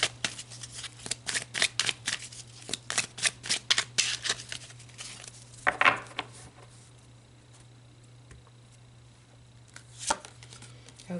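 Tarot cards shuffled by hand in a string of quick, crisp riffling bursts up close, then a quieter stretch with a single card slap near the end; steady low hum underneath, no talking.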